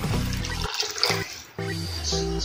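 Water poured into a pot of rice for Mexican rice, a steady close splashing pour with a brief break midway, no talk.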